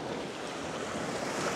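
Waves wash and churn at the shore at sunrise, a steady broadband rush of moving water with some wind noise, close to the microphone and with no talk.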